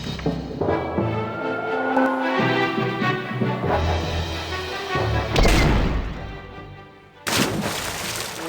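A Mr. Massacre brand cannon fires in the video game The Curse of Monkey Island, with booming blasts and rumbling crashes over a continuous game soundtrack, loud and close.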